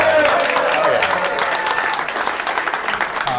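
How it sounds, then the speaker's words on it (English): Comedy club audience applauding during a stand-up set, loud close clapping and cheering throughout the short stretch, with voices mixed into the crowd noise. "Clap it up for this guy, dude."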